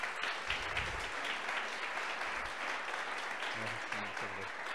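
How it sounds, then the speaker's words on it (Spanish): A seated audience claps for a guest speaker at a women in data science meetup, a dense, even patter of applause with faint voices and low murmurs mixed in underneath. "Entonces, otro aplauso, por favor."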